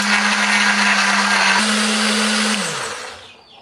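A blender runs loud and steady, pureeing garlic, shallots, ginger and turmeric with a little water into a spice paste, its motor holding an even roar for about two and a half seconds before winding down to silence.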